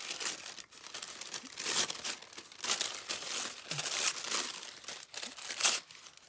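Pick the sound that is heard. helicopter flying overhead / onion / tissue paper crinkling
tissue paper crinkling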